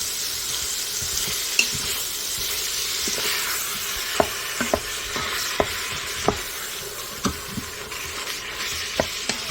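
Ground beef with 15% fat frying in a pan while being broken up and stirred, a steady close sizzle with a scattering of sharp scraping knocks from the utensil.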